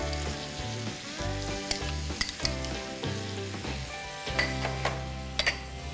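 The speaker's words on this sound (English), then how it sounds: "give it a mix" Broccoli being stirred with ketchup and chili sauce in a hot frying pan for honey chilli broccoli, with a loud, steady sizzle broken by repeated scraping and clinking of the utensil. No talking.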